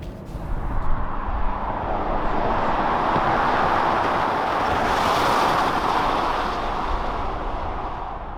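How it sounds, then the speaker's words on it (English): Steady broadband wind rush near the A-pillar inside a Genesis GV80 SUV at speed, a continuous loud hiss swelling slightly midway with no talking. "I'm hearing lots of wind noise coming from near these A-pillar, which is a bit weird because on the right side I don't hear anything."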